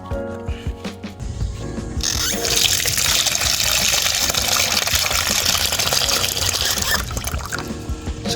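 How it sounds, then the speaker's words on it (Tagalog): Water gushes steadily from a tap, rinsing rust remover off a car, a loud continuous rush starting after a brief quieter moment and running nearly the whole time. "kailangan siyang banlawan gamit ng tubig"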